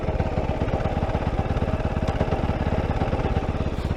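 Kove 450 Rally motorcycle, already hot from a ride, idling unevenly with a steady close thumping pulse and mechanical clatter, the idle wavering slightly as the clutch is let out.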